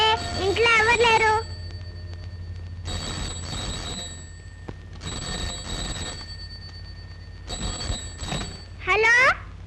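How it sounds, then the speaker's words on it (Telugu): A telephone rings indoors in an empty house in a Telugu film scene: bursts of electronic trilling ring, separated by quieter gaps, with a short chirping ring at the start and end, loud and close. "ఫోన్ అవుతుంది, ఇంట్లో ఎవరు లేరు."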